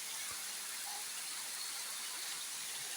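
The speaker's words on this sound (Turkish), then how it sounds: "kayaların yüzünden dökülen şelaleler" A waterfall spilling down rock faces at a hidden falls near Erdemli, Mersin, giving a steady, dense rushing hiss that fills the whole stretch with no voices.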